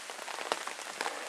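Steady rain falling outdoors in summer, a dense continuous hiss of drops spattering on surfaces with a few slightly louder taps, moderately close and unbroken throughout.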